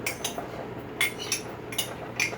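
Chopped cilantro stirred into melted butter, with light clinks of a utensil tapping the container at a steady pace, close and soft.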